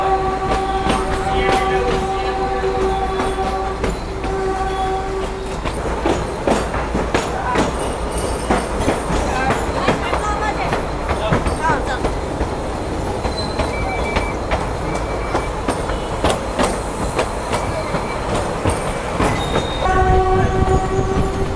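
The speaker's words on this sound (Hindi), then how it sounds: "So now enjoy one more heritage train journey on travel on tracks." A narrow gauge heritage train runs from Bilimora to Waghai, with steady rumbling wheels and clattering cars throughout and a horn blowing near the start and again at the end.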